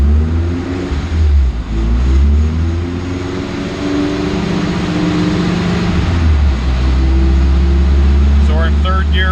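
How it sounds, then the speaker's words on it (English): A car cruises in third gear on a chassis dyno with no load, a loud steady engine drone with deep low rumble and slowly shifting tones, close up and continuous throughout. "so we're in third gear right now, just kind of cruising, no load on the dyno"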